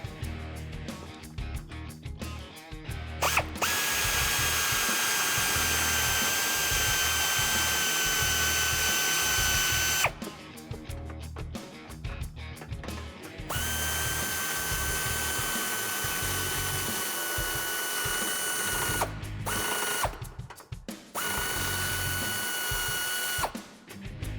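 Power tool with a 19 mm socket running out bolts on a Jeep Wrangler JL rear bumper, several loud whirring bursts of a few seconds each separated by short pauses, close up with no talk.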